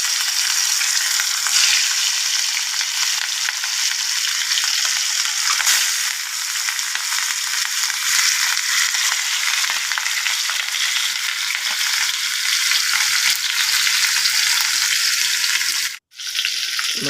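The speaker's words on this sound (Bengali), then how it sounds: "তেলের মধ্যে মাছগুলো দিয়ে দিচ্ছি।" Prawns fry in hot oil in a wok, giving a loud, dense and unbroken sizzle that runs close and constant, dropping out for a brief moment near the end, with no voices.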